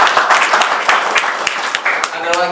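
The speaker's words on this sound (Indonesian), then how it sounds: "Kita kasih tepuk tangan dulu," A Sunday church congregation claps in scattered, uneven bursts, fairly close and loud, while a pastor keeps talking over the clapping.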